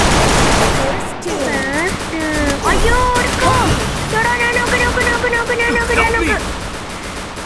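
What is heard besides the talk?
gunfire in the video game Free Fire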